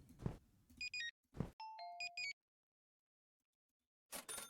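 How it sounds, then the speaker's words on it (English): Checkout scanner beeps ring up items in the Smoke & Lottery Simulator video game, a quick series of bright electronic tones with a lower chime among them. Short bursts of other noise come in between, and a brief silence follows. "I like the sound when you're ringing in things"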